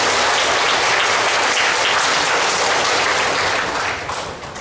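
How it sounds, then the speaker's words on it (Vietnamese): Sustained audience applause fills a Buddhist temple hall during a Vesak Dharma talk, a dense even wash of many hands clapping at once that holds steady and then begins to taper off near the end. "Chúng ta xin một tràng pháo tay để tán thán."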